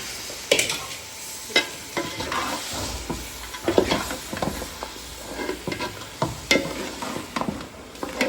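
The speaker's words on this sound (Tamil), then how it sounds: "கறியில் நம்ம உப்பு போட்டு நல்லா வதக்கி" Curry sautéed with salt in a pan, with a spatula scraping and stirring in repeated strokes over a steady background sizzle, close and clear with no voices.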